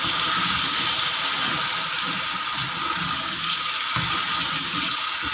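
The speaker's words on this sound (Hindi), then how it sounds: "अब इसमें 2 टेबलस्पून के करीब हम पानी डालेंगे, मिक्स करेंगे" About two tablespoons of water are poured into a cooking chicken liver masala, giving a loud, continuous hissing splash with a bubbling sizzle beneath it, close and steady for several seconds, with no voices.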